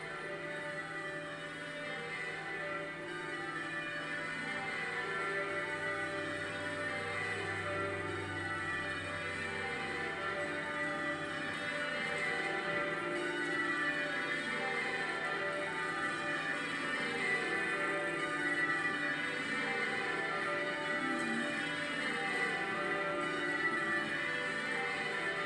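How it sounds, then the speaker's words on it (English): Westminster Abbey's church bells peal continuously for King Charles's coronation, a dense, sustained cascade of overlapping rings with no talking. "So with the Abbey bells sounding the news of his coronation throughout the United Kingdom and beyond, Charles's journey as crowned sovereign is a"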